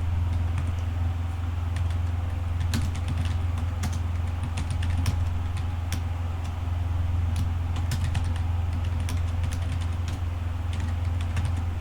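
Computer keyboard clicking as code is typed, sparse irregular keystrokes scattered over a loud steady low hum of background noise, with no talking.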